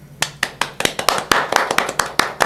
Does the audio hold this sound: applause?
yes